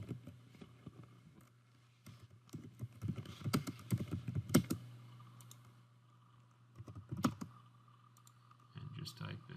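Typing on a computer keyboard while entering text in CAD software, with close bursts of quick clicking keystrokes separated by pauses, over a steady low hum.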